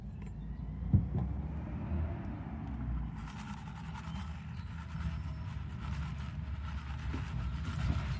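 A garbage truck collects trash outside on trash day, its engine a steady low rumble heard from a distance throughout, with faint clanks rising over the drone.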